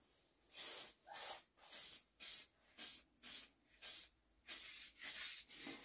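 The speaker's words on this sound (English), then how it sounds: "You don't want to get too close to it when you're spraying." A spray can applies colour to a renovated red deer antler hiking stick in about ten short, sharp hissing bursts that repeat at a steady rhythm, with near silence between each burst.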